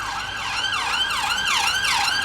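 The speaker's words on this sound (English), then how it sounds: "the sirens are coming." Emergency vehicle sirens on Old Street in London, a loud, continuous, rapidly cycling wail repeating about four times, close by and filling the street, with no voices.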